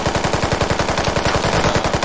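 Rapid automatic gunfire in a competitive team shooter video game, a loud, close burst of evenly spaced shots at a fast steady rhythm, heard alone without talk.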